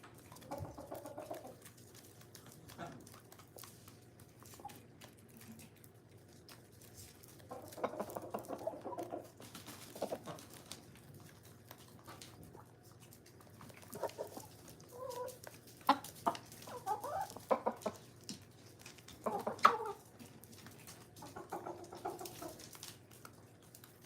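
Chickens cluck and murmur in scattered bursts, some close and some farther off, with quiet gaps between calls.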